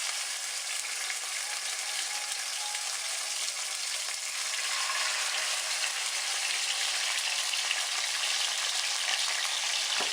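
Salmon sears in a hot cast iron pan, giving a steady, loud, close hiss and crackle of frying oil that continues unbroken with no talking.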